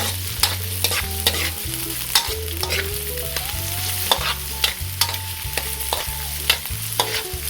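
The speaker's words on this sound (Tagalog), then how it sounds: "Ngayon po na medyo golden brown na po yung ating bawang, ay isusunod na natin tong ating sibuyas." Onions sauté with golden-brown garlic in a pan for ginisang sardinas with chayote, a continuous sizzle with repeated scraping stirs and clicks of the utensil, close and fairly loud, with no talking and light background music.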